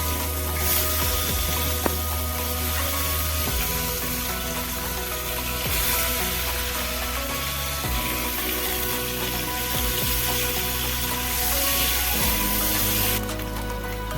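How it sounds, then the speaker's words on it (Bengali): Boiled eggs frying in hot oil in a home kitchen for Bengali egg curry, giving a steady dense sizzle with occasional spatter and stirring knocks throughout, no voices. "এবার ডিমগুলো ভেজে নেব"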